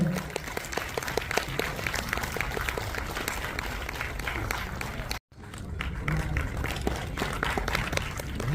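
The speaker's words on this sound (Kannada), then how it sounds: "ಜೋರಾದ ಚಪ್ಪಾಳೆ" Loud, sustained applause from a crowd fills a press meet for a telefilm launch, dense rapid clapping that cuts out briefly and then resumes just as strongly.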